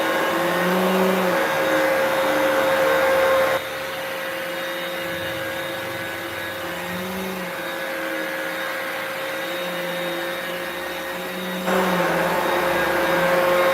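A Hoover Power Dash Pet carpet cleaner runs with a loud, steady motor whine and airy suction roar, shifting pitch slightly as it is pushed back and forth, with a brief louder surge at the start and end.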